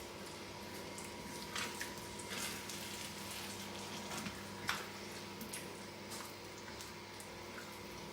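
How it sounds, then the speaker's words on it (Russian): Tomatoes for borscht fry in a pan, a steady low sizzle with soft bubbling and occasional small pops and squishes, continuous and fairly quiet throughout, with no talking. "И теперь жарим до тех пор, пока вот не выпарится вот эта вот лишняя жидкость из помидорок."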